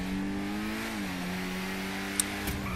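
A 1990s Lamborghini Diablo engine gives a quiet, steady, humming drone with a slight dip in pitch midway, more an even running tone than a sharp rev.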